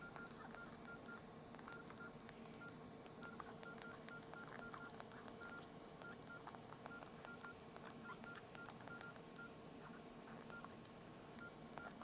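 A Nokia E63 keypad beeps rapidly as a text message is typed, a dense stream of short, quiet electronic tones irregularly spaced over a faint background hiss, with no talk.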